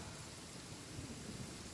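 Steady rain falls in Genshin Impact, a dense, even hiss with a low rumble underneath, continuous and fairly faint with no other sounds.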